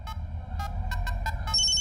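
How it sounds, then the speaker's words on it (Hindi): Mobile phone ringing with repeated short electronic ring bursts, clear and close, ending in a brighter sustained tone, over a low background hum. "दूसरा कस्टमर है, फोन उठा लेता हूँ।"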